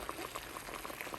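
Karimeen curry with coconut milk bubbles gently in a pot, soft quiet popping and simmering heard close and alone.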